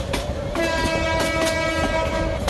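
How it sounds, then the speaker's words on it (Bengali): A train running at speed in a Bangladeshi train simulator game, loud continuous rumble with rhythmic clickety-clack of wheels and a sustained horn tone across the whole stretch. "ভাই কি স্পিডে যাইতেছে ট্রেন।"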